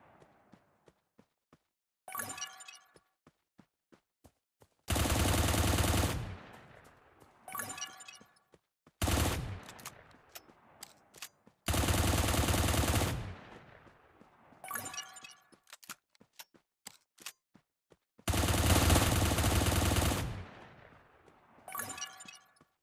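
Weapon fire from the mobile game Cyber Hunter: loud bursts of rapid shots, each lasting one to two seconds, alternating with short clicks and crunching impact noises across the whole stretch.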